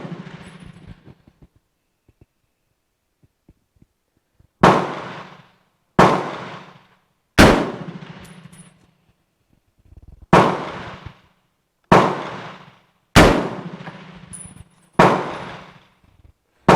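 Seven sharp, loud M1 Garand rifle shots fired one at a time at roughly even intervals outdoors at a target range, each with a quick decaying echo, after a few seconds of near quiet.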